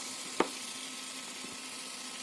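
Butter cut into pieces sizzles with a dry flour mixture in a pan over low heat, a faint, steady frying hiss broken by a single sharp click.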